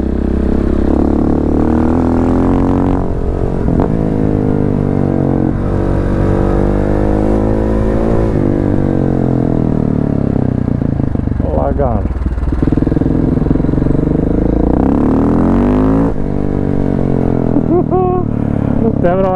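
A pink KTM 690 Enduro motorcycle revs loudly and repeatedly, its engine rising and falling in pitch through city riding, while someone talks over it.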